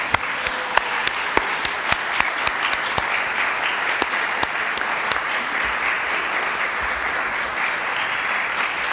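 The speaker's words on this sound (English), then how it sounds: "now is the time to applaud Madeline" A church congregation at a Sunday service gives sustained applause, a dense, even roar of many hands with a few sharper individual claps popping out near the start before the sound settles into a steady wash.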